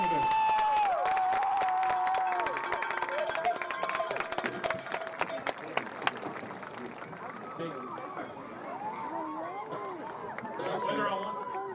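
Crowd applause and cheering in the stands for the homecoming king, queen and court at a high school football game, a broad steady wash of clapping with a voice and chatter running over it throughout.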